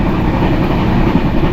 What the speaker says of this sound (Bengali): ট্রেন প্রচণ্ড গতিতে ছুটছে। এটা হচ্ছে কুম্ভ এক্সপ্রেস